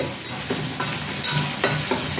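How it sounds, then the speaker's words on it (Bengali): Onion and garlic frying and being stirred in a pan for a taro dish: a close, steady sizzle with soft scraping stirs every half second or so, and no talk. "খুব সুন্দর করে পেঁয়াজ রসুনটা ভাজবেন।"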